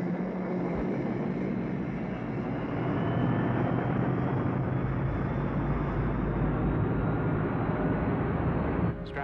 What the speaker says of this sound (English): Full power on the thrusters, Vincent.